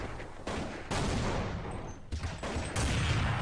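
Dense gunfire from the video game Counter-Strike, a continuous loud fusillade of rapid shots in bursts across the whole stretch, with no talking.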